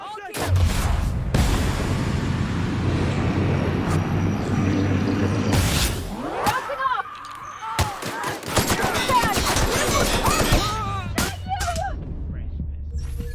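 Gunfire in the video game Outerworld comes as sharp repeated bursts and scattered shots over a low humming drone, with clustered volleys in the second half and some voice audible among them.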